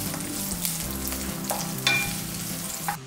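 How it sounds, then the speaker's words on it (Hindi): A medium onion sautés in oil in a pan, a steady close sizzle with occasional stirring scrapes and clicks, no voices. "ऑयल में मैं एक मीडियम साइज़ का प्याज सौते कर लेती हूँ।"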